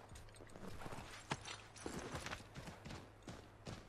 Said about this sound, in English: Oh, it's my horse.